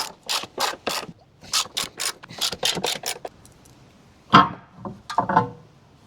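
A hand ratchet clicks in quick bursts of several strokes each while the intake is removed from a Mustang engine, close and crisp, with short pauses and a few lighter clicks near the end.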